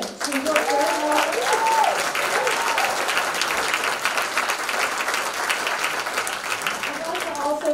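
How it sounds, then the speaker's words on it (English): An audience at a live CEO round table event applauds steadily and loudly for the whole stretch, dense clapping filling the room while a voice briefly rises over it near the start and again at the end. "let's give a round of applause to it"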